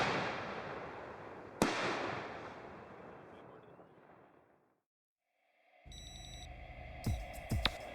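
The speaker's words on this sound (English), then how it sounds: "to give them this nice little stacked effect of the real fireworks going on" A sharp firework burst cracks, then a long fading rumble trails off into silence before more pops, crackles and bangs erupt at a distance.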